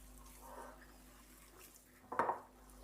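A spoon working chicken seekh kabab mixture in a bowl, faint soft scraping followed by a short cluster of louder clinks and knocks against the bowl, with quiet background hum.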